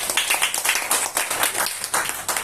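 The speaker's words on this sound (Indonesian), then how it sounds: "Tepuk tangan untuk beliau" A church congregation at a first-anniversary celebration claps for a pastor being introduced, a steady fast patter of many hands filling the room throughout.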